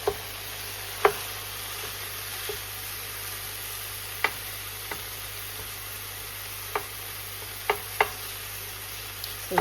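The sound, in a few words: beef mince sizzling in a pan with vegetables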